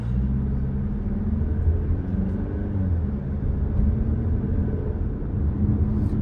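A 2021 Jeep Compass on a test drive gives a steady, moderately loud low-frequency road and engine rumble heard from inside the cabin, continuous and even throughout with no voices.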